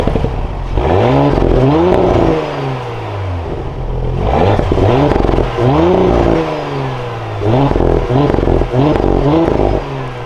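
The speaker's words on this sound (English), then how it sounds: "now inside the 2024 Audi S4, keep my foot on the brake, we can go ahead and fire it up" A 2024 Audi S4 Premium Plus engine cranks and fires up, then revs loudly in repeated rising and falling sweeps before settling into a steady idle, heard close and alone.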